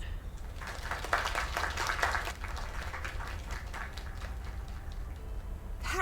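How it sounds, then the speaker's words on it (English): Crowd applause after a performance in the video game Lake: a steady wash of clapping, denser in the first couple of seconds, then settling into a softer sustained patter. "Another round of applause."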